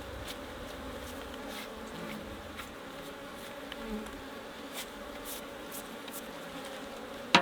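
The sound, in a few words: honeybees buzzing around an opened hive frame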